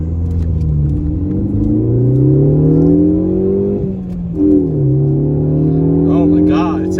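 Ford Focus ST hot hatch fitted with a Borla S-Type exhaust, heard from inside while pulling away, a loud continuous engine drone rising in pitch through the gears, with a brief dip at a shift.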